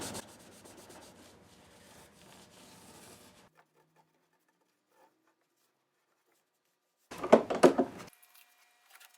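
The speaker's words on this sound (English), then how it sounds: "Just going over this with some ivory compound to just clean up any smudging from the other compound." Hand rubbing ivory polishing compound onto an ebony fingerboard of a Les Paul Custom guitar: soft close scrubbing strokes that fade to near silence, then a brief louder burst of rubbing near the end.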